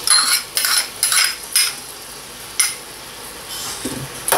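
Garlic and onion sautéing in a hot pan, with a soft background sizzle broken by repeated clinks and scrapes of a metal utensil stirring against the pan, close and regular.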